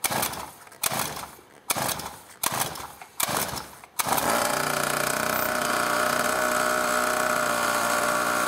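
A homemade moped engine coughs through several sputtering attempts, then catches and runs continuously at a high, steady idle after a fuel line change, loud and close.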